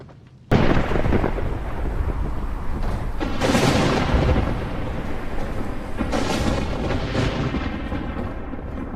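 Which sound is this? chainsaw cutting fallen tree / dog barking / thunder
thunder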